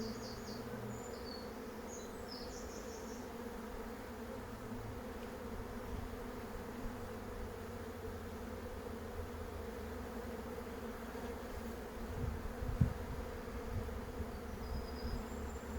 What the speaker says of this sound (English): We've still not seen the queen bee.